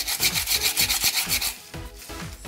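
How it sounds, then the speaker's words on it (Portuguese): Sanding a cast concrete skull vase by hand, with rapid rhythmic back-and-forth scraping strokes, close and steady, then a few slower strokes, no voices. "Vou lixar essa parte aqui, ó."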